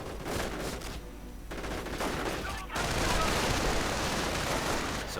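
Game battle gunfire as assault-rifle-armed Panzer Grenadiers clash with airborne troops, a mortar half-track nearby: dense, continuous crackling rifle and machine-gun fire, loud throughout, with a brief lull before the volley swells again.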